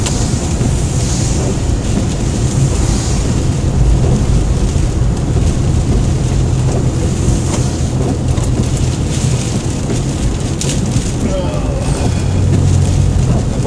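Steady rain and wet road noise surround a car driving down a main town street during all-day rain, with a continuous broadband hiss, low engine and tyre rumble, and occasional louder splashes throughout.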